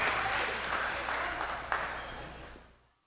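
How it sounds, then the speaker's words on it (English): An audience claps for newcomers arriving, a dense, steady wash of applause from many people that fades out at the end. "Hey, let's clap for everybody coming in real quick."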